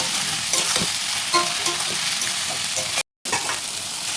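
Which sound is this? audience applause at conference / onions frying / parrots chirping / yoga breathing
onions frying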